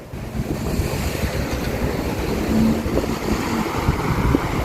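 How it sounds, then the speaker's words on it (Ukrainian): Rising wind outdoors in Ireland, a loud rushing roar buffeting the microphone in uneven gusts, continuous and close, with no voices over it. "А вже вітерець піднімається."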